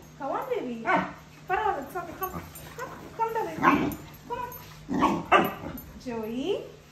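A husky refusing a bath barks, yips and whines in repeated short bursts, close and fairly loud, while a person talks to it throughout.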